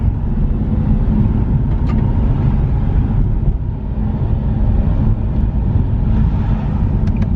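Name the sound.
Nissan 370Z driving on a brake test drive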